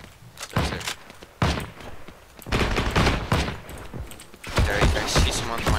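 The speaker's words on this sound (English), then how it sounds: "I tried to take a shot at the other guy though." Gunfire in the online shooter game Heroes & Generals, a series of loud, sharp bursts and single shots spaced irregularly across several seconds, with noisy battlefield sound filling the gaps between them.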